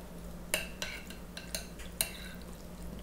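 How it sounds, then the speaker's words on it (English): Utensil scraping and clinking against a baking dish while egg-mixed macaroni and cheese is spread evenly, several sharp ticks over a soft, quiet background. "go ahead and kind of spread this evenly in your dish"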